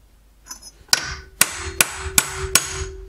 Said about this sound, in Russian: Можно развальцовать прямо так молотком, стучать по краям.